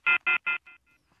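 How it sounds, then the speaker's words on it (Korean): A telephone ringback tone heard while a call to the Daegu mayor is being connected on a radio broadcast: three loud beeping bursts followed by fading, weaker echoes. "관련 제도 정비를 추진하고 있는 홍준표 대구시장을 전화 연결하겠습니다"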